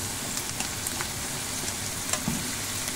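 Steady sizzling and crackling of dried shrimp and garlic scapes stir-frying in a hot pan with soy sauce and oligosaccharide syrup, with faint scraping as it is stirred.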